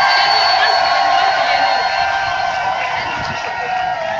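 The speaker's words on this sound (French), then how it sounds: "On applaudit très fort." A large audience at a live event cheers and applauds loudly and continuously, a dense wash of crowd noise with scattered whoops, sustained at full level.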